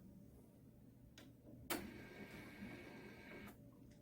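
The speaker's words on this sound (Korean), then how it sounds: "마지막으로 프린터기 앞쪽에 리본 셋 버튼을 눌러서 리본의 위치를 맞춰줍니다" A Nubia card printer whirs and clicks as it aligns its ribbon after the reset button is pressed, a sharp click followed by a steady motor hum and another click, quiet and alone.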